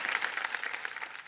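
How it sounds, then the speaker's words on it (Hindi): Studio audience on the KBC game show claps in a dense, even burst of applause that holds steady for a moment before tapering off at the end. "एक बार जोरदार तालियां बज जाएं इनके लिए।"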